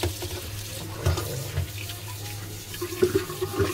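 Tap water runs steadily in the background while a water filter is cleaned, a soft continuous splash with small clinks and bumps of things being handled.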